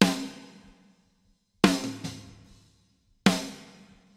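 Three isolated snare drum hits from a metal mix, processed with Debleeder to reduce cymbal bleed, each a sharp crack with a short decaying tail, spaced more than a second apart with clean silence between.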